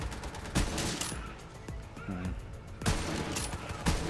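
Sniper rifle shots ring out in the video game Borderlands 3, several sharp loud cracks spaced a second or two apart over background game noise and explosions.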